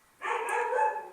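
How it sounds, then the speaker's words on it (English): A dog indoors lets out a single drawn-out bark or yelp, moderately loud and close, in an otherwise quiet room. "You can hear my doggy."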